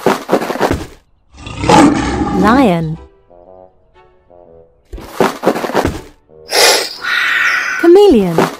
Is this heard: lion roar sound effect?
yes